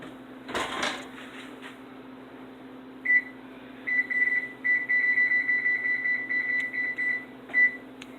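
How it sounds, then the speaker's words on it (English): Kitchen oven timer being set to 16 minutes gives a run of short, high electronic beeps, some in quick bursts and some single, close and clear over a low steady hum, with a soft thump just before. "we've got our timer set at 16 minutes"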